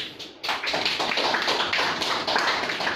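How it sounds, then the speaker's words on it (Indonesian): A crowd at a police district event claps for the police chief, a dense, lively burst of many hands that carries steadily for about three seconds after a brief pause at the start. "Tepuk tangan dulu Bapak Kapolres."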